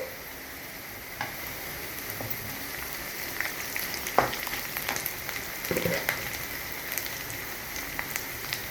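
Curry leaves and green chillies hitting hot oil for poha upma, a steady hiss of frying punctuated by sharp spits and pops, with a brief stirring scrape near the end.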